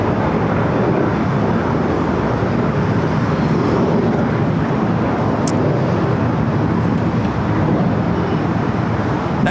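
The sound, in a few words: Aeromexico Dreamliner taking off at LAX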